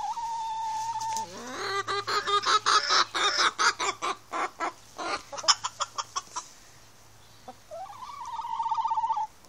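Hens cluck in a rapid run of short, close calls, with a higher drawn-out call at the start and end over a low steady hum.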